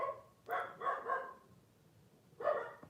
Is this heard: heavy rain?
no